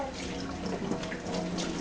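Water pours steadily into a container filled to overflowing, a close, continuous splashing rush with no pauses.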